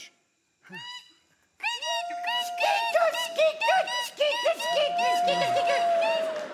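Squeaky owl sound effect in a stage play, a series of loud honking, goose-like calls repeating rapidly after a brief pause, with a sustained whistling tone running underneath.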